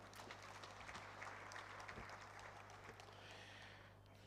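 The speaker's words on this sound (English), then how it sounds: "If you want to clap for her, please clap for her" Faint, distant audience applause at the launch of a citizens' assembly, a steady wash of many hands clapping for about four seconds over a low electrical hum, with no speech.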